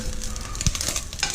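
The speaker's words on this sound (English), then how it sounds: "We are going to deglaze" Liquid hits a hot chilli con carne pot and sizzles as a spoon scrapes and stirs the bottom, with a close, steady frying hiss and brief scraping bursts.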